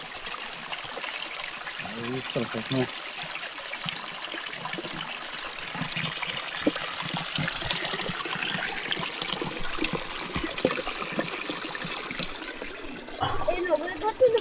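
Water runs steadily from a mountain spring fountain on a forest trail on Vitosha. A constant close trickling rush continues throughout while people talk over it.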